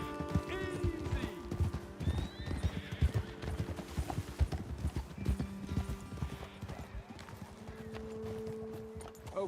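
Horse hooves clip-clop steadily with a couple of whinnies and neighs over them in Red Dead Redemption 2, a voice talking briefly in the background.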